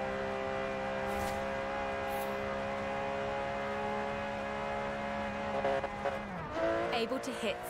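Aston Martin DB11 with a 5.2-litre twin-turbo V12 driven in Forza Horizon 4, a steady loud engine drone held at high speed, pitch sliding down near the end with some tire noise and a voice talking over it.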